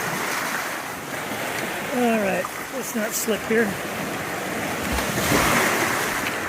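Waves wash along the rocky Lake Superior shoreline in a continuous roar, mixed with wind buffeting the microphone, while a person speaks briefly over it.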